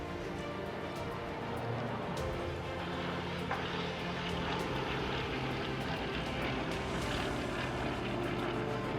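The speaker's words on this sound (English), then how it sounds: "Beautiful sound of that Pegasus engine." A propeller aircraft with a Pegasus engine flies past at an air show in bad weather, its engine drone loud and steady throughout with a broad, rough roar and no talking over it.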